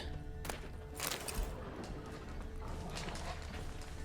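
Horse sounds in The Witcher 3 video game, with a few hoof clops and a brief snort or whinny over quiet ambient game noise, faint overall.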